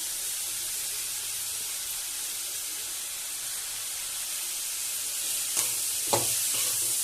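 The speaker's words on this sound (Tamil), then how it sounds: "இப்போ அதையும் நல்லா வதக்கிக்கலாம்" Steady bright sizzle of ridge gourd sautéing in a hot pan, with a couple of short scraping stirs near the end. No talking.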